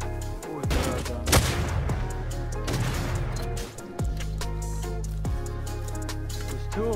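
Gunfire in the console version of the survival game Rust: several sharp, loud shots and bursts come in quick succession over a dense, continuous bed of in-game noise, with a few brief gaps between volleys.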